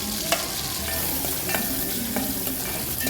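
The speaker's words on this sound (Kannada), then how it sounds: "ಎಣ್ಣೆ ಕಾದ ಬಳಿಕ ಈರುಳ್ಳಿಯನ್ನು ಹಾಕಿ ಸ್ವಲ್ಪ ಹುರಿದುಕೊಳ್ಳಿ" Onions fry in hot oil in a pan for a ridge gourd curry, a continuous crackling sizzle with occasional sharp stirring scrapes and ticks punctuating the steady hiss.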